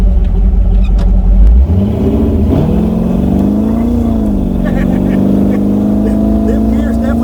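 A car engine idles and then rises into a sustained rev after carburetor, timing and gear work, a loud steady drone that climbs in pitch and holds, with people talking over it.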